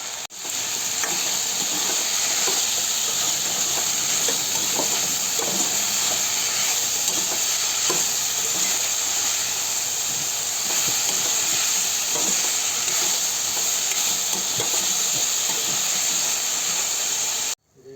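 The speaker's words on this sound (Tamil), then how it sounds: "கொஞ்ச நேரம் வதக்கி விடுவோம்." Chopped vegetables sautéing in a pan over an outdoor village cooking fire, a steady loud sizzle and hiss running without a break.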